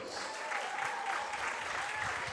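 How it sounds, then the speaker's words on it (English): Sustained applause from an audience at a charity football match, a dense, even patter of clapping hands continuing throughout. "Give them all a round of applause."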